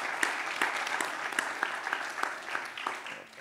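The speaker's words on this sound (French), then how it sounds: "Donc, merci de les applaudir." Audience applause at the close of a master class event: scattered, moderately quiet clapping with distinct individual claps from a smallish crowd, tapering gradually over a few seconds.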